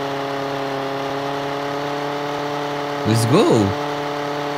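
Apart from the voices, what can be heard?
vehicle engine buzzing like lawnmower, video game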